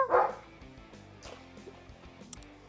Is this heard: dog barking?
yes